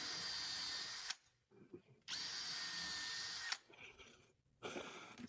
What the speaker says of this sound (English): use that long 1/8 inch drill bit I have